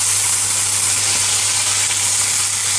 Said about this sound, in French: Donc là on fait revenir, on fait dorer les deux côtés.